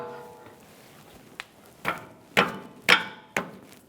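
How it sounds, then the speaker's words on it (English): Metallic knocks from a 24mm wrench loosening a rusted jam nut on a 2004-2010 BMW X3 front steering rack, five sharp strikes growing louder at roughly half-second intervals in a quiet workshop. "We're going to loosen up this jam nut"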